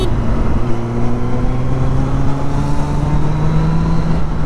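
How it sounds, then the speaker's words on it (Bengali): A superbike engine roaring inside a tunnel, a loud sustained drone with slowly rising pitch and an enclosed, booming character, steady for the whole stretch. "টানেলের ভিতরে কিন্তু একটা আলাদাই শব্দ হয় সুপার বাইকের"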